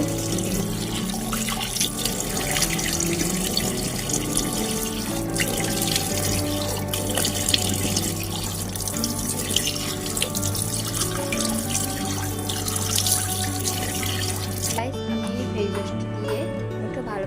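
A sink tap runs steadily while a face is washed, with splashing and dripping against the basin for several seconds before the flow cuts off near the end.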